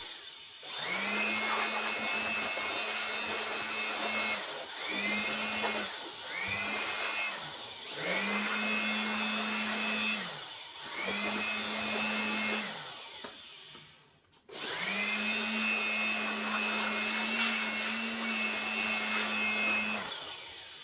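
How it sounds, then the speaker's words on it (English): Air blower blasting dust out of a desktop PC case, a loud steady whine in repeated bursts of a few seconds each, stopping and restarting, with a brief pause before a longer final blast; no talking. "Now blow the dust out from CPU fan, GPU, power supply area, case fans, corners of the motherboard, bottom of the case."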